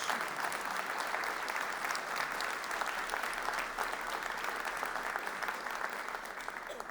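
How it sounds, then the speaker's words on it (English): A crowd at the City of Roswell State of the City event gives a long, even round of applause, many hands clapping steadily at moderate volume throughout. "Y'all give these great people a great round of applause."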